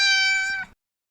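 A toy cat dressed as a bat gives a single bright electronic meow, loud and close, with no other sound around it, and it cuts off abruptly after under a second.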